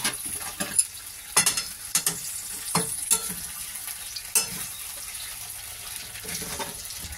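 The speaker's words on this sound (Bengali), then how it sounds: "এবার আমি এই পনিরটাকে ভালো করে কষে দেবো।" Cubes of paneer sautéing in a hot pan give a steady bright sizzle, broken by several sharp scrapes and clacks as a spoon stirs and turns them, with no voices over the frying.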